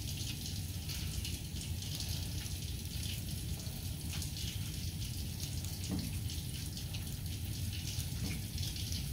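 Running tap water splashing as hands are rinsed during a five-minute surgical scrub, a steady close hiss of falling water throughout with no talking.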